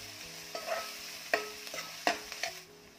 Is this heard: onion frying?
yes